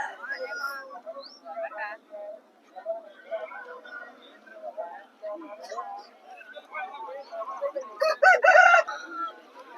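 Talking runs through most of the stretch with fowl calling behind it at the Nallapadu rooster market, then a louder rooster crow near the end.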